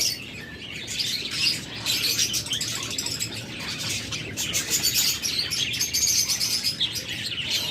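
A pair of pet birds, from a shop selling lovebirds, cockatiels and similar cage birds, chirp and tweet continuously; dense overlapping high calls, fairly close, with a few wing flutters and no talking.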